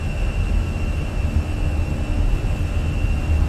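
Simulated airliner jet engines roar at takeoff power in Microsoft Flight Simulator during an IndiGo-style Airbus departure from Mumbai, a loud, steady low rumble with a thin high whine running through it.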